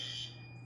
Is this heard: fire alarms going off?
yes